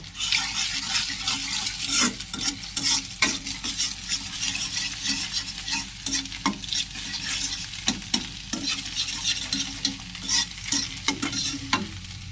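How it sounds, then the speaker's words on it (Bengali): Egg stirred and fried in a hot pan for noodles: a loud, steady sizzle close by, punctuated by sharp metallic scrapes and taps of a spatula against the pan at irregular intervals. "ডিমটা প্রায় ভাজা হয়ে গেছে"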